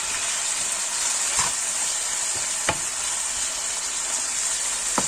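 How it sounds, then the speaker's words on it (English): Steady sizzling of egg with garlic and spices frying in a pan, with a few brief clinks and scrapes of stirring over the constant hiss. "Garlic is good when you're frying egg."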